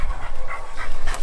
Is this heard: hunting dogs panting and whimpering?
yes